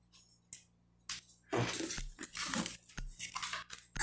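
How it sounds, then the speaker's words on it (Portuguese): A strained chair creaks and crackles in close, irregular bursts, sounding ready to break, with short sharp cracks between louder crunching stretches. "Esse barulho que vocês estão ouvindo é a cadeira, tá? Porque a cadeira tá meio querendo quebrar."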